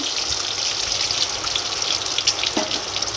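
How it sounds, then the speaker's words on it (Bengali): Steady hissing and crackling of eggs frying in hot oil, close up, with occasional louder pops and no talking. "আর এদিকে ডিমগুলো ভেজে নিচ্ছি"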